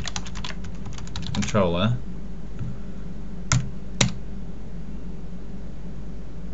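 Rapid clicking keystrokes on a computer keyboard at a Windows Server client, a quick burst of typing followed by a few isolated key presses, with someone speaking briefly over a steady background hum.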